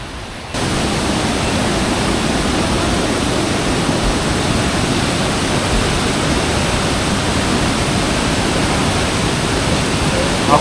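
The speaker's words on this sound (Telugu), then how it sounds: "ఆ పైన నుంచి అయితే వస్తున్నాయి వాటర్ ఫాల్స్ చాలా ఫాస్ట్గా." Rushing water of Meenmutty Waterfalls in Wayanad, Kerala, a steady loud broadband roar that starts abruptly after half a second and holds unbroken to the end, with no voices.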